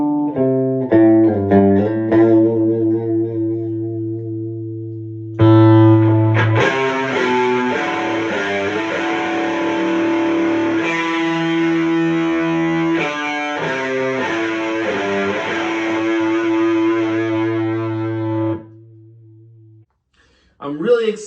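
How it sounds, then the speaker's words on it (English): A Fender Hello Kitty Stratocaster electric guitar plays a few clean, ringing notes, then switches to a louder, thicker distorted tone with sustained chords, ending with a brief quiet gap. "here's the clean tone, and then I'm going to run it through some distortion."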